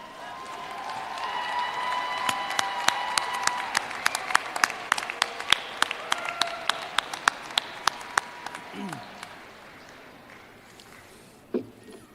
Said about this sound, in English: I invite you to turn and applaud your parents, your families, and friends who have supported you throughout this journey